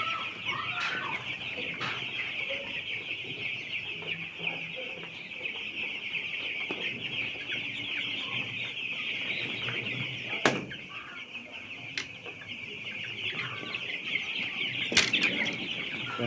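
Nine-day-old chickens on an upper-floor poultry farm cluck and cheep constantly at close range, with a few sudden bursts of wing flapping and scuffling standing out above the steady flock noise.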